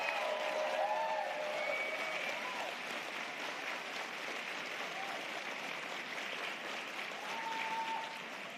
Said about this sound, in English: Please applaud for our wonderful panelists.